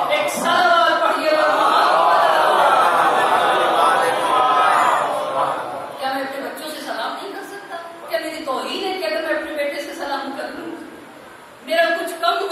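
A majlis congregation recites salawat together in unison, a loud swelling chorus of many voices that then tapers into scattered murmuring and chatter.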